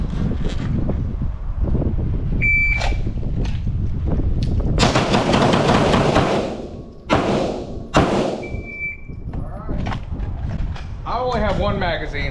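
Pistol gunshots during a timed drill with an FMK G3 or Staccato P, several sharp loud reports in an irregular sequence outdoors, with wind noise and people talking around the shots.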